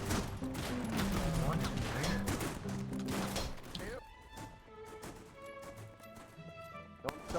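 Gunfire in the WW1 game Holdfast, a dense crackle of distant volleys and shots under layered game noise, then thinner, quieter pops with tonal sounds and a final sharp report; muffled talk in the background.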